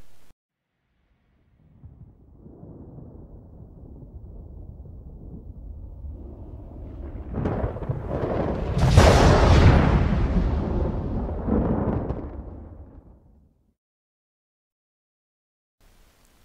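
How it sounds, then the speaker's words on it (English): Thunder and lightning effects for a Jerry Bruckheimer Films logo: a low rumble builds steadily, swells into a loud cracking peak around the middle, then rolls away and fades to silence, with no voices. "The thunder and lightning sounds were different."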